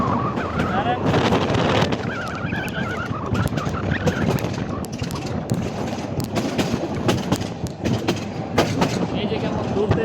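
Onboard a Narayanganj commuter train on a roughly 150-year-old railway line, a loud continuous rumble and rattle fills the carriage, punctuated by sharp knocks and clanks as the train sways along.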